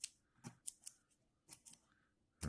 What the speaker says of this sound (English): you take your scissor here and you just go choppy, choppy, choppy, choppy, choppy